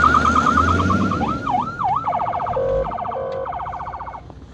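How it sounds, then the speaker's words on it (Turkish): A loud, close ambulance siren wails in rising and falling sweeps, then switches to a rapid yelping pattern, with traffic rumbling underneath on a snowy road. "Ambulans geldi."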